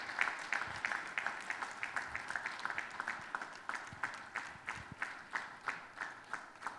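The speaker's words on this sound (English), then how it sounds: "just clap for his memory, please" An audience at a Security Watch Africa award event claps in memory of a late army chief, at moderate volume. Scattered hand claps settle into a slower, steady rhythmic beat toward the end.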